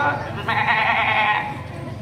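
A person mimics a goat bleating, a single wavering, quavering bleat lasting about a second that swells loud and close, then fades, with no other voices alongside.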